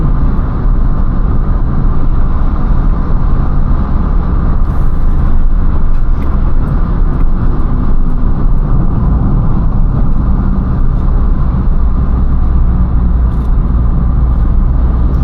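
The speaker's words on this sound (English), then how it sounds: "I don't even have my foot on the gas pedal right now. It's just going downhill." A 2013 Opel Corsa diesel coasting downhill on a Greek mountain road, with steady loud low road and tyre rumble inside the cabin and no engine revving, continuous and even throughout.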